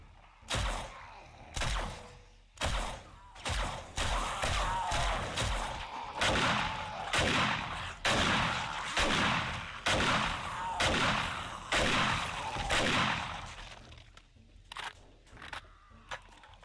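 Repeated gunshots ring out in a steady volley as zombies are shot in the survival game 7 Days to Die Alpha 19, sharp cracks spaced a second or so apart, with a brief sparse stretch near the end.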